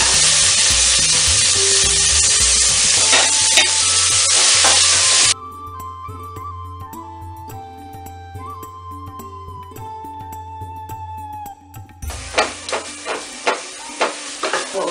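Loud sizzling and frying of tomatoes in a pan with rhythmic stirring clinks; the sizzle drops away midway to a quieter hum, then returns with repeated scraping stirs.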